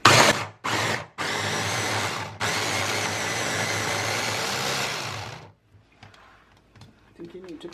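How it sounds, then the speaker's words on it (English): A small handheld electric blender whirs while mixing homemade solomon gundy, with two short bursts followed by a sustained buzzing run of about three seconds that cuts off abruptly, leaving quiet kitchen sounds and a few faint clicks. "I like this little handheld, this little blender for small jobs."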